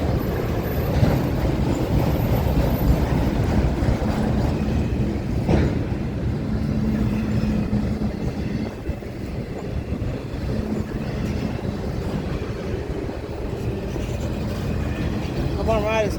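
A CSX freight train rumbles steadily close by, slowing down to stop shortly after arriving, with a continuous low rolling drone, a faint squeal near the end and people talking over it.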